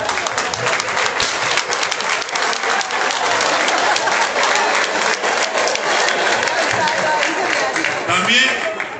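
Audience at a political committee swearing-in event applauding the municipal president of Tlahuapan, a sustained dense round of clapping, loud and steady, with faint voices mixed in.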